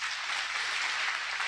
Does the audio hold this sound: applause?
yes